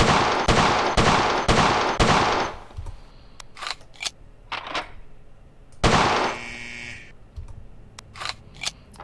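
Pistol shots from a Colt 1911 on a shooting range in the World of Guns video game: a rapid string of about five sharp, loud reports, then scattered quieter clanks of rounds hitting plates, another burst of shots, and more metallic pings.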